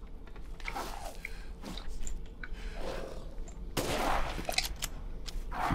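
Gunfire from a sniper rifle in the survival horror game Resident Evil Village, a few sharp reports amid ongoing game noise, with a louder burst near the end.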